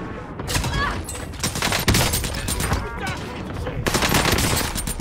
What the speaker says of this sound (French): Ok, pistolet à clous, c'est parti.